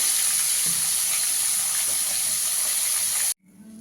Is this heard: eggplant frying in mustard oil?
yes